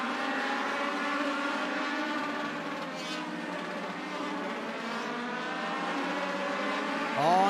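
Race cars in a stock car racing video game roar past in a continuous layered engine drone, steady and loud, with a sharp pass-by whine near the end.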